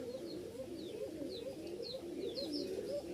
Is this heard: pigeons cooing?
yes